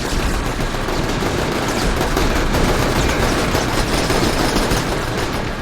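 Sustained video game gunfire rattles continuously in dense, loud automatic bursts, a relentless close barrage with no pauses and no talk.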